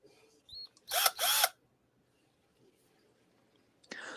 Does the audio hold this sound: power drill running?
yes